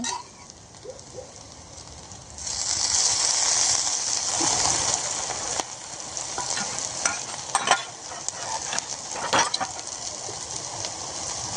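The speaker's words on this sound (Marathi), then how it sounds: "तर वड्या छान अशा मस्त तळायचं चालू आहे." Coriander vadi sizzle in oil on a griddle over a wood-fired stove in the traditional way, a continuous crackling hiss that swells after a quieter start, with scattered sharp pops and spatters nearby.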